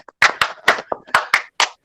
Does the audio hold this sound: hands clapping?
yes